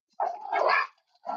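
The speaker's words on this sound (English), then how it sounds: "my dogs are outside with me" A pair of dogs bark outdoors during sidewalk chalk drawing: a loud, close double bark, a short pause, then another bark starting.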